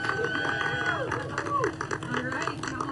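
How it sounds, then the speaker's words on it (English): Crowd applause and cheering at a Blue Origin New Shepard landing site as the crew climbs out of the capsule, a dense, steady clapping wash with babble and speech mixed in throughout. "Some thunderous applause is always a good sign."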